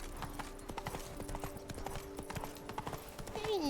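Horse hooves clip-clop in a steady walking rhythm in The Witcher 3: Wild Hunt, close and continuous, with a sustained tonal hum beneath and a brief rising whine near the end.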